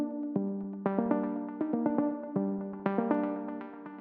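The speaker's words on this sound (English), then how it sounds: "the main hook of this track is this lead sound" Lead synth line from a techno track plays alone as clear, bright plucked notes in a choppy, syncopated rhythm, each note struck sharply and decaying quickly.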